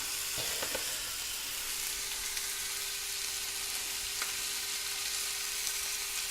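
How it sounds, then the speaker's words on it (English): Bacon-wrapped chicken fillets stuffed with garlic and sundried tomato, marinated in chili, frying in a pan with a steady, close sizzle and a few soft clicks. "I'm going to brown them all the way around"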